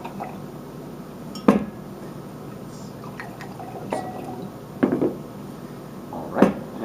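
Several short clinks of glass with brief trickles of Pinot Grigio wine poured into glasses between them, quiet and close, over a steady low room hum.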